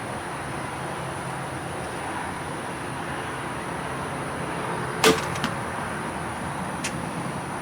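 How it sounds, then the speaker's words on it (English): An arrow tipped with a broadhead, shot from a bow, strikes a target once with a sharp, brief impact about two-thirds of the way through, followed by a faint rattle, over a steady outdoor background hiss. "These arrows are a little bit loud."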